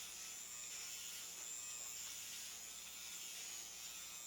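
Flawless electric facial hair removal razor running steadily in circular motions on the face, a faint continuous high-pitched buzz and whir with no talking.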